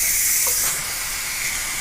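Pressure cooker holding macaroni, venting steam on release: a loud, close, broadband hiss that stays steady, eases slightly partway through, then carries on.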